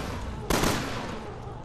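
A two-round burst from a gun in Resident Evil Revelations 2 cracks out once, sharp and loud, over a steady game background with no talk.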